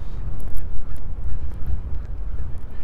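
A parent goose guarding its newly hatched goslings honks repeatedly in short harsh calls, close and loud, over a low rumble of wind on a chilly lakeside morning walk.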